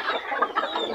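Cochin and mottled cochin-frizzle bantam chickens let out into the open air, one hen frightened, clucking close by in a steady run of overlapping calls with no talk.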